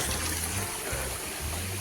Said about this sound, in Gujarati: ઉપરથી પાણી આવે છે